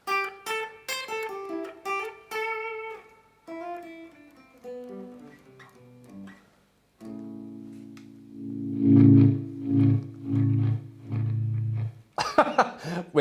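An electric guitar on its bridge pickup plays through a Laney Lionheart L20H amp with the master volume on 1, giving plucked melodic notes and then held, ringing chords that are clean and fairly loud, ending with a burst of brighter strumming.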